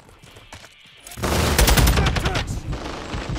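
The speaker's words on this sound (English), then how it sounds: "I'm taking enemy fire." Enemy gunfire in Call of Duty Modern Warfare, a sudden loud burst of rapid automatic shots erupting after a quieter lead-in and continuing dense and close to the end.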